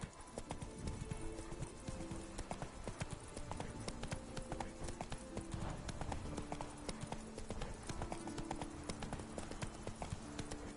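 Roach the horse clip-clops along in Witcher 3: Blood and Wine, a dense, steady run of hoofbeats that sounds close and continuous, with an occasional snort or whinny and no speech.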